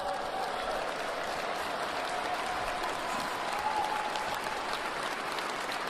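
Sustained applause from a large audience at an indoor political event, a dense, steady roar of clapping that fills the whole stretch without pause.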